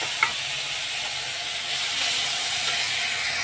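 Shrimp poured into hot oil in a wok hiss into a steady, bright sizzle after a brief clatter at the start, continuing loud and close with no talk.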